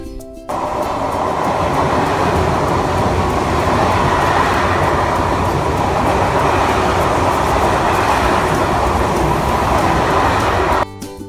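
A train at a small Sicilian railway station with one track each direction rumbles loud and continuous on the tracks, a broad roaring clatter that starts abruptly and cuts off near the end.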